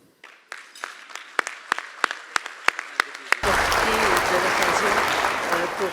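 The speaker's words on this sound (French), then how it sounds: "je vous demande de vous lever tous pour applaudir Madame Louise Arel." Audience at a large Iftar gathering of the Maghrebi community in Quebec, standing to applaud: a few scattered claps quickly build into loud, sustained, dense applause from the whole room.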